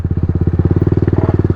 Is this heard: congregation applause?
no